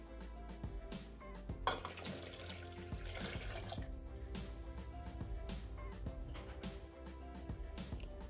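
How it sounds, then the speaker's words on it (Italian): Mandarin juice poured into a Bimby Thermomix bowl for a sorbet, a steady liquid splash running for several seconds beneath constant background music. "Aggiungere il succo di mandarini"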